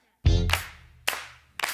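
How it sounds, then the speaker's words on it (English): A live concert audience claps along to a band in a few sharp, echoing hand claps, each ringing out briefly over a deep, booming musical backdrop. "Feel free to clap along, ladies and gentlemen."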